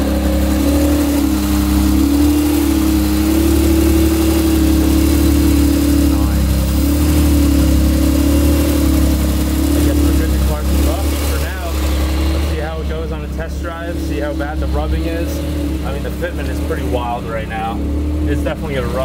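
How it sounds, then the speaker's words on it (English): A sports car idles with a deep, throaty exhaust rumble and a few light revs, while people talk over it near the end. "Check out this exhaust."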